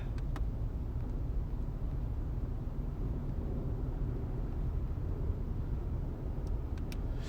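A car being driven, heard from inside as a steady low road and engine rumble with broadband hiss, continuous and even throughout.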